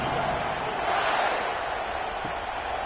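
A football stadium crowd roars before a kickoff, a broad, steady wash of cheering that holds loud throughout.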